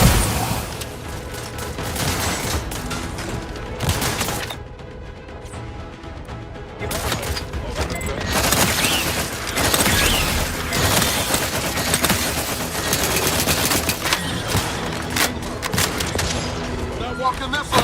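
Gunfire in the video game Outer Worlds 2, loud repeated shots and rapid bursts in a chaotic battle with game music and brief voices mixed in, pausing for a moment before resuming.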